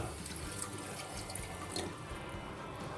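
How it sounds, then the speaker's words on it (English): Water runs steadily from a tap over a mix of alfalfa, broccoli and spinach seeds, a continuous close splashing and trickling that holds at an even level for a few seconds with no talk. "We're going to add the water, just enough to cover all the seeds."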